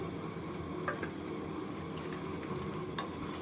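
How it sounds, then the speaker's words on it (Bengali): Marinated chicken goes into hot spiced oil for a fiery red Bengali curry, sizzling steadily and close with an even frying hiss and a few faint clinks of stirring. "এখন ম্যাগিনেট করা মাংসটা দিয়ে দিচ্ছি"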